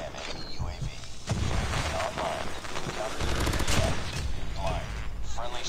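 QXR submachine gun firing in the Call of Duty Mobile video game, with sustained rapid automatic bursts, loud and close, mixed with game effects and a voice talking over the shooting.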